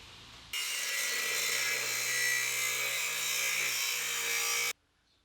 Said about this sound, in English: Grinders. Make pretty sparks.